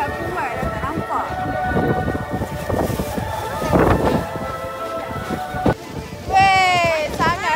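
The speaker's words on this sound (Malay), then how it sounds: "Angin kuat." Strong wind buffets the microphone at a crowded, foggy outdoor viewpoint in Vietnam, a steady low roar throughout with people talking over it and a sharp whistling tone near the end.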